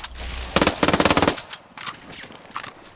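A loud burst of rapid machine gun fire in the Ghost Recon Wildlands game, a dense run of shots followed by fainter scattered bursts further off.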